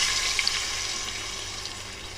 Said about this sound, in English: So I'll be adding 1 more cup of water